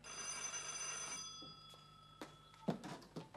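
An old-style telephone bell rings steadily and loudly for about a second and a half, then stops, followed by brief knocks and shuffling sounds in a room during a 1982 stage comedy.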